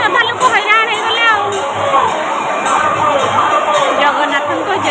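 A large crowd packs the streets for the Rath Yatra festival in heavy rain, a loud continuous babble of voices with shouts and chatter close by.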